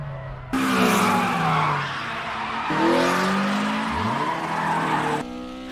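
Tires squeal loudly and continuously as a car skids and drifts at night, rear wheels breaking loose first, with overlapping screeches rising and falling under steady engine noise.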